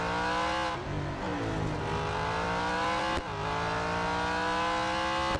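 A race car engine in the video game Real Racing 3 revs loud and steady, its pitch climbing through gear changes with two brief dips between shifts, alone without talk.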